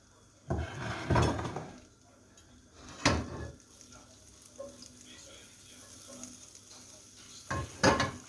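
Butter frying beside sucuk in a pan gives a quiet, soft sizzle, broken by a few sharp utensil clatters and scrapes against the pan.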